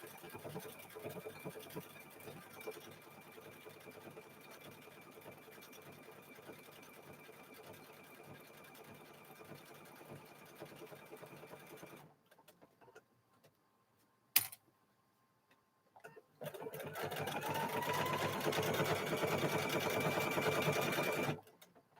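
A sewing machine stitches quilt binding in two long runs, the first steady and moderate, then a pause with a sharp click, followed by a louder, faster burst of stitching.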